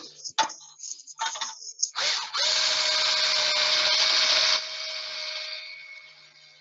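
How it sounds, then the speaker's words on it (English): A hand drill twisting a length of wire into a coil: a few short whirring bursts, then a sustained close high whine of the drill for a couple of seconds that winds down and fades. "And then I press my drill against it. Yeah. Pull the wire."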